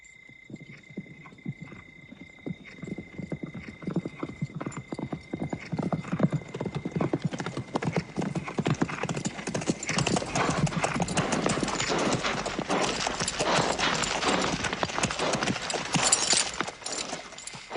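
Hundreds of horses in an approaching army in a film scene: a dense, building drumming of hooves that grows steadily louder and fuller, with an occasional whinny and faint voices underneath.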